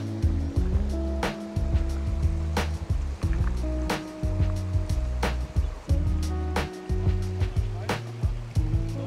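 A cold mountain stream in the Alps, along the Via Claudia Augusta between Lermoos and Landeck, rushes steadily close by, with people talking over it and a low mechanical hum.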